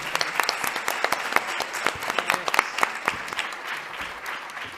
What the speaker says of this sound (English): can you all help me give a round of applause for our 5 incredible panelists?